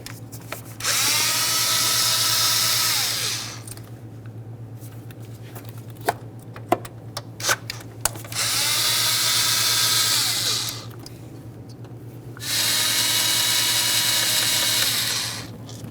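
A power drill with a T25 Torx bit backs out ignition coil screws on a 1998-2011 Ford Ranger 2.3L four-cylinder, running in three loud bursts of whining motor separated by quiet gaps with sharp metallic clicks and handling taps.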